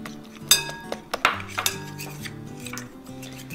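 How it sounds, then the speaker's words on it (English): A utensil mixing ingredients in a bowl for a sugar-free chocolate mousse cake, giving a few sharp clinks against the bowl followed by softer, scattered taps close by. "give it a quick mix so that it's light and frothy"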